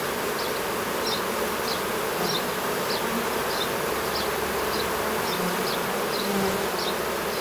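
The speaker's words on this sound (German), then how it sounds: "sind sogar ganz liebe Bienen" Honeybees buzzing steadily and densely as a colony is moved out of a tree trunk, a continuous close swarm hum with no talk over it.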